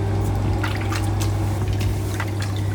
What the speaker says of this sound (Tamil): இது 2 கையும் வச்சு நல்லா இந்த பிசைஞ்சு கழுவிக்கோங்க